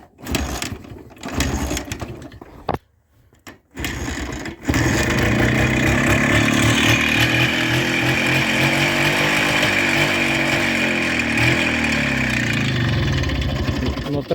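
Motorcycle engine needing carburetor adjustment or replacement, starting after a few sputters then running at a steady loud idle close by, with a slight rise and fall in pitch.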